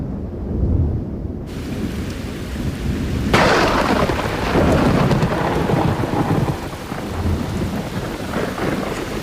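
Heavy rain pours steadily in the Galapagos Islands while thunder rumbles, the downpour surging louder after a few seconds and continuing as a dense roar.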